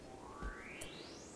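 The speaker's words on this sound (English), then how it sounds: "Oh, that was the sound of a recharging shield." Recharging shield in the video game RimWorld, a quiet rising electronic sweep that climbs steadily in pitch over about a second, faint over background hiss.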